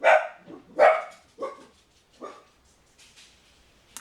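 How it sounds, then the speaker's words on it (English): Several dog barks, two sharp loud ones close together, then a few softer barks trailing off, ending in quiet. "I was just seeing if my dogs are gonna keep barking"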